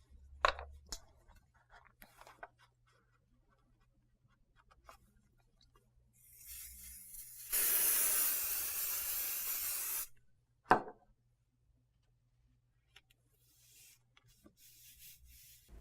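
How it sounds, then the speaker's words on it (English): A can of temporary adhesive spray hisses onto folded paper in one steady burst of about two and a half seconds, close and clear amid quiet handling noises. "So we're going to just fold it over and spray lightly on one side."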